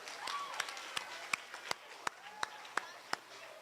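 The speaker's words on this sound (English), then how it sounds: "Let's give them a big round of applause." Audience at an elementary school spelling bee applauding contestants, a soft, diffuse crowd of hands clapping with several louder individual claps standing out at a fairly regular beat, voices murmuring beneath.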